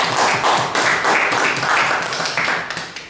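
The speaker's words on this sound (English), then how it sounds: "Can we have a round of applause?" A short round of applause at a professional speakers' meeting: steady, dense clapping from a small group, fairly close and loud, fading slightly at the end with no talk over it.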